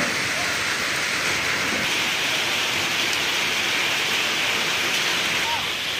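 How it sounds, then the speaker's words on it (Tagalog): Steady, dense rain hisses evenly throughout, a constant wash of falling water with no pauses and no talking. "ulan sa atin ngayon guys"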